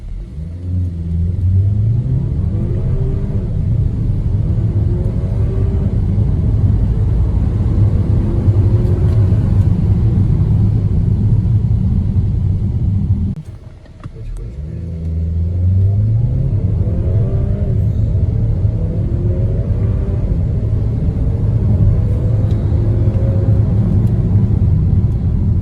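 A Chery Exeed VX accelerating hard from a standstill to 100 km/h, the engine note climbing in pitch through gears with a short dip at a shift midway, heard from inside as a steady loud drone.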